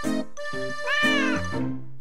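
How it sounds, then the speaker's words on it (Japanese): A group of stray cats pours out of a mansion, meowing loudly and close by, with several overlapping, drawn-out meows rising and falling over two seconds. "屋敷から野良猫たちがゾロゾロ出てきたよ。"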